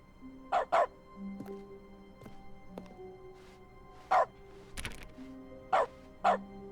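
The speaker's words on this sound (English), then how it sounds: "Sério que eu vou latindo?" Dog barking in the dog mode of The Stanley Parable video game, several short yips and barks spaced apart over soft game background tones and footsteps.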